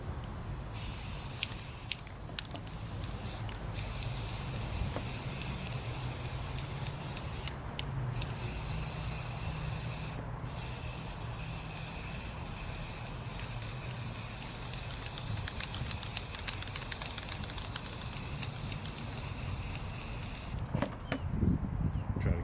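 Aerosol spray paint hisses in long steady bursts as a tumbler gets a red coat outdoors, the close, even spraying running almost continuously with a few brief pauses.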